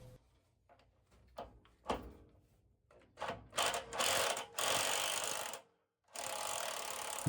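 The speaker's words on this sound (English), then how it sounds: "I'm using a small 1/2-inch extension to get past the draft hood so the impact gun doesn't hit the draft hood" Impact gun loosening the anode rod of a water heater through a small 1/2-inch extension past the draft hood: scattered clicks and taps, then several loud sustained hammering bursts near the mic with a brief pause between.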